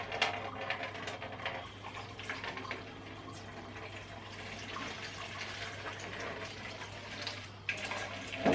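Engine oil from a Vauxhall Corsa 1.3 CDTI draining into a container, a faint continuous trickling pour with a low steady hum beneath it, fairly quiet throughout.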